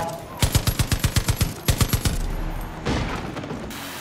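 Far Cry 5 video game gunfire: a rapid, evenly spaced burst of loud close shots, a brief pause, then another short burst that trails into a rumbling blast.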